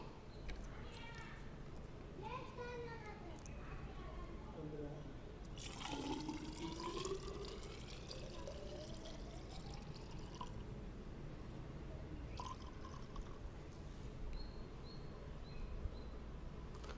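Isopropyl alcohol pouring into a 250 ml measuring burette, a continuous trickling and gurgling liquid stream with rising fill tones, close by, while someone speaks over it.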